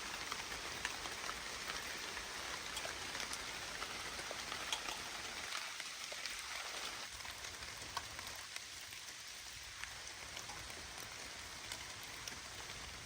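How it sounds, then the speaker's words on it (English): Heavy rain pours steadily onto surfaces nearby at a van campsite, a dense continuous patter with scattered louder drops. "It's raining heavy."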